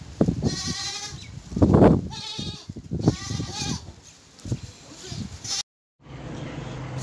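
An adult goat with eight teeth bleats repeatedly at a livestock market, several loud wavering cries close by amid murmuring background noise, followed by a brief silence and then ambient noise.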